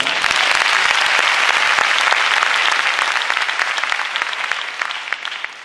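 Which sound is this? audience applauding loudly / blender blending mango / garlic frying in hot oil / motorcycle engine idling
audience applauding loudly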